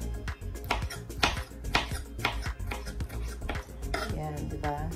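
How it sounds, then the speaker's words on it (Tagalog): Knife cutting tomatoes into small pieces on a board, with rapid irregular clicks and knocks, some faint metallic clinks, close and fairly loud. "Ito, hinihiwa ko na yung kamatis."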